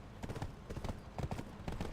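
Horse hooves galloping in a video game, a quick rhythmic clip-clop of repeated hoofbeats in steady groups, close and moderately loud throughout.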